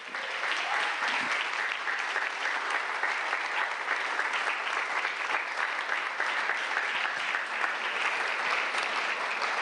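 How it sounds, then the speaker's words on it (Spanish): A congregation claps at a church service, producing a steady, dense wash of applause that continues evenly from start to finish with no pauses. "Dele el aplauso al Eterno."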